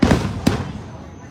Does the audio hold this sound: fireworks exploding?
yes